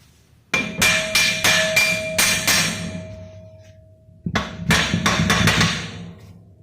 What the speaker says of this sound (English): if you got some uneven gaps, hammer's your friend